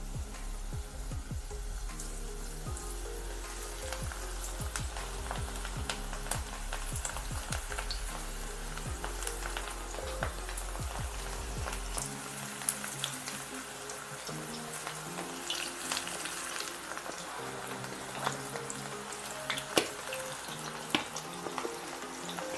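Mixed vegetable pakoda batter crackles in hot oil over a low flame, giving a continuous sizzle with scattered pops and bubbling as small pieces are dropped in bit by bit.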